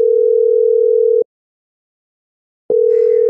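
A telephone dial tone hums steadily while a call is placed, cutting off into a second and a half of silence before the tone resumes, loud and close.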